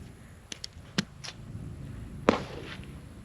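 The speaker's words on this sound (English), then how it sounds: "Shooting." Pistol shots from a Canik METE MC9 fitted with a red dot sight at a shooting range: a few sharp, separate cracks spaced irregularly, with one louder report near the end, set against quiet range background.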